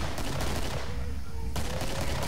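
Rapid gunfire in Killing Floor, a fast barrage of shots that briefly thins in the middle before the dense firing resumes.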